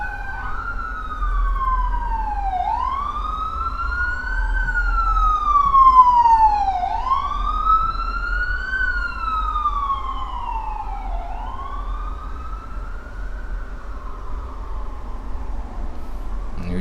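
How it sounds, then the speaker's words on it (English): Wailing emergency vehicle sirens sweep up and down in repeated rising and falling cycles, loud and close, with an overlapping second tone and a low traffic rumble underneath, sustained for about seventeen seconds. "You just gotta respect the sirens."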